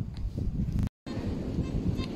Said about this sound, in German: Oh, diese Wind ist Katastrophe.